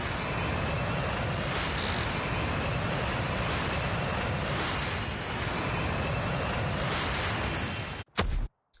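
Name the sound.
helicopter in Call of Duty: Mobile video game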